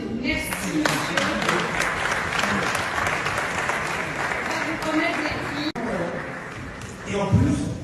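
An audience at a francophone diaspora summit applauds an ambassador, sustaining a dense, even wash of clapping that fades slightly near the end, with voices mixed in.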